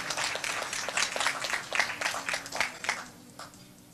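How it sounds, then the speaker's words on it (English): Short burst of audience clapping at a vegan talk anniversary celebration, a few distinct hand claps standing out over a soft, moderately faint patter of applause. "A big round of applause once again."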